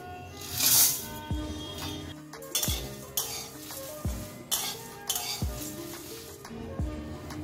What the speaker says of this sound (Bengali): এগুলো দিয়ে আমি এখন ভাজবো, ভেজে রোস্ট করে দেখাচ্ছি